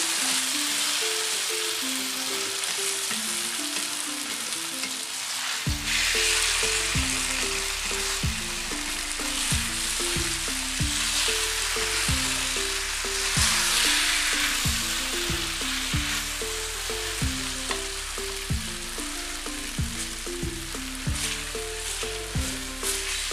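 Potato pieces frying in a pan for an egg and potato gravy, giving a loud, steady hissing sizzle that sustains throughout over a background of music.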